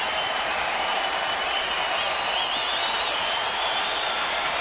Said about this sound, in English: Big Friday night crowd.